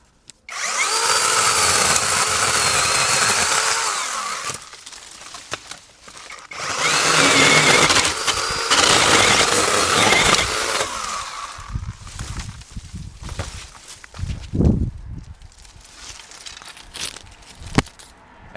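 A cordless Avhrit 2-in-1 pole saw's chain runs hard through thick tree branches in loud, sustained buzzing bursts, easing off between cuts with quieter rustling and the snap of falling wood.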